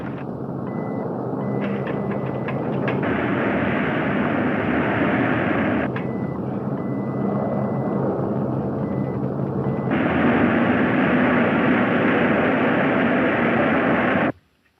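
An airplane engine in flight from a 1946 movie serial gives a loud, steady, rough drone that holds for about fourteen seconds before cutting off abruptly.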